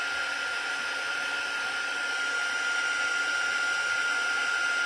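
A heat tool runs nonstop to melt embossing powder for Stampin' Up! stamping, giving a steady, even whirring blow with a faint high whine and no breaks.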